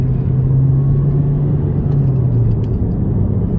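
A 2019 Honda Civic Sport with its muffler deleted drones at a low, steady exhaust rumble heard from inside the cabin with the windows up, moderate in level and even throughout, with no talk.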